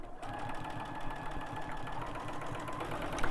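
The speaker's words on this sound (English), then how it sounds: "And I do like to back stitch at the end too." A sewing machine stitches fabric for a Dresden Plate quilt block, giving a steady, rapid mechanical whir and chatter heard close up and uninterrupted for a few seconds.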